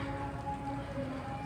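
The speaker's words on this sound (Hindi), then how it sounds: "और बारिश इस वक्त स्टार्ट हो गई है।" Rain falling on a vegetable garden with eggplant and tomato plants, a steady soft patter of drops at low level, heard alone without speech.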